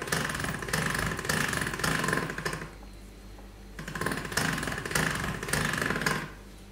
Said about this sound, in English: I'm just going to do that on the large setting of my pasta machine